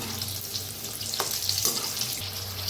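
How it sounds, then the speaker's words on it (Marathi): Chana vada fritters fry in hot oil with a steady close sizzle and crackle, small pops and stirring sounds breaking through now and then. "तर बघा मस्त असं तळलं गेलेलं आहे"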